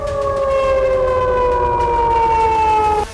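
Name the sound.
air raid sirens in Russia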